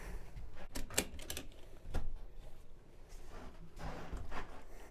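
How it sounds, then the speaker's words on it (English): Ratchet strap being cranked tight on a dirt bike inside an enclosed cargo trailer, a few quick clicking bursts with short pauses, close but fairly quiet. "I just pull the slack tight, and then I release the handle with this clip, and then I just start ratcheting"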